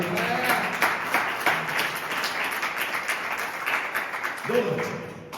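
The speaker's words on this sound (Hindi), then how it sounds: "जोरदार तालियां" Clapping from a church congregation runs steadily under a preacher's voice, with speech rising over it at the start and near the end.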